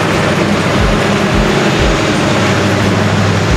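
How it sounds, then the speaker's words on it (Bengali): A train engine of the Cox's Bazar Express runs past close by as a loud, steady, broadband roar. Low throbbing rumbles pulse underneath throughout, with no voices. "ট্রেনের ইঞ্জিন চলছে, অনেক সাউন্ড হচ্ছে।"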